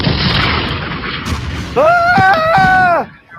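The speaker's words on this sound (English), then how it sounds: "Pay no attention to the peaceful explosions all around me." Loud booms and bursts go off around a street demonstration in a large US city, followed by a bright whistling firework-like tone that wavers for about a second before cutting off.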